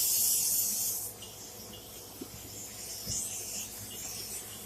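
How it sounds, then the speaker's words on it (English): A short burst of nonstick cooking spray hisses loudly onto a pan at the start, then fades into quiet rubbing and faint handling noises. "I'm going to spray this pan really well."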